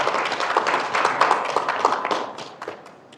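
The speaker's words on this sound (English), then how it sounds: "So let's get a round of applause for all of our partners." A modest audience applauds event partners at a university sustainability and style event, a steady ripple of individual claps that tapers off near the close.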